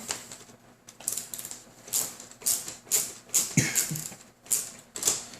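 Screws being cinched down with a small tool on a Tamiya flatbed trailer scale model, giving a series of short, close clicking and ratcheting bursts with brief pauses between them, no talking.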